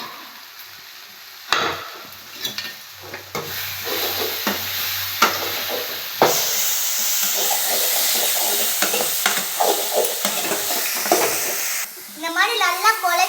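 Ginger garlic paste sautés in a pan for chicken gravy, a loud continuous sizzle with repeated stirring scrapes and knocks close by, a brief tonal sound near the end.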